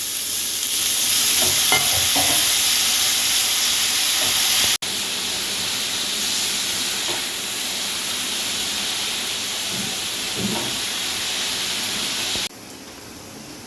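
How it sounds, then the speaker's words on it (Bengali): Fish masala with salt, turmeric and a splash of water sizzles and sautés in a pan for a Bengali-style fish dish, a steady loud hiss with occasional stirring scrapes, briefly cut off mid-way and quieter toward the end. "এবার একটু জল দিয়ে কষিয়ে নেব।"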